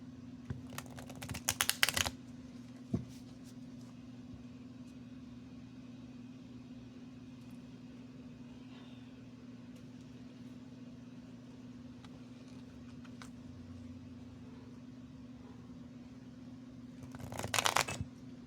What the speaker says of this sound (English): I'm gonna shuffle it one more time.